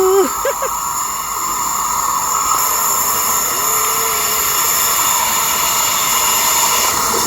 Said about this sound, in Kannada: ಬಂತು ಟ್ರೈನ್ ಬಂತು